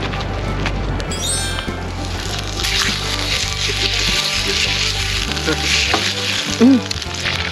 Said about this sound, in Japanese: いきなり火がめっちゃついた。